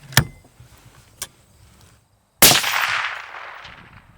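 Crisp, sharp crack of a suppressed rifle shot during a long-range target session, preceded by two lighter clicks and followed by a brief fading tail, alone with no talk.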